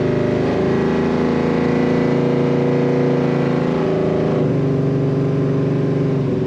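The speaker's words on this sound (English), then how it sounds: "Great sound coming out of the tail of this car." A 1969 Chevrolet Chevelle Malibu two-door hardtop with automatic transmission drones steadily through its exhaust while driving, a loud continuous engine note with a slight shift in pitch partway through.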